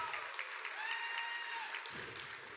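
Audience at a Santa Fe education foundation gala auction breaking into steady applause, a dense wash of clapping filling the hall throughout, with faint voices mixed in.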